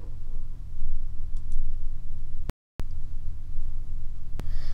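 A computer mouse clicked during software use, a single sharp click standing out briefly over quiet room hum and faint background noise.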